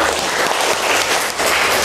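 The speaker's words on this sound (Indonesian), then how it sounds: "Tepuk tangan buat Aldo." Classmates clap together for a student during a school chemistry lesson on electrolyte and non-electrolyte solutions, a dense, steady burst of classroom applause lasting about two seconds with no talking over it.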